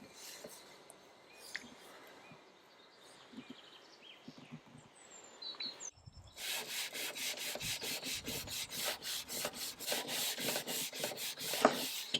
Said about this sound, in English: so I can sand it flat and get rid of the paint